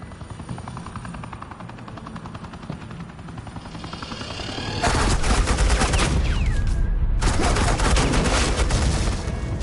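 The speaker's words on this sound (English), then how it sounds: "Suppressing fire." Suppressing gunfire in a Batman video game starts with a low rumble and mechanical hum, then breaks into loud, continuous rapid automatic fire with a short gap before resuming.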